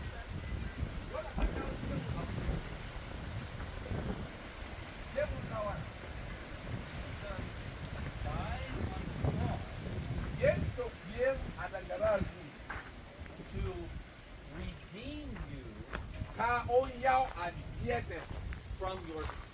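Wind gusting around a mango tree during an outdoor mission trip in Ghana, rough rushing and microphone buffeting beneath ongoing conversation.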